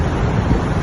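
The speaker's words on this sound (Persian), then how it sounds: "آب داره میره زیر یخ و برف. این هم آبشار نیاگارا." Niagara Falls in winter, with water rushing beneath ice and snow, gives a steady, dense roar of falling and flowing water that stays constant and fairly loud throughout, with no voices.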